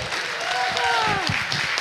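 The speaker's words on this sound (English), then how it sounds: "She has worked so hard, and I want to thank Shanta and give her a huge applaud." An audience at a slow-living wellness summit applauds in a brief burst of clapping, mixed with voices and a tonal sound over the top.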